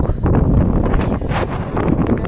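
Strong wind on a rocky mountain summit near Sai Kung, Hong Kong, buffets the microphone in a loud, constant rumbling roar with gusting swells and no pauses.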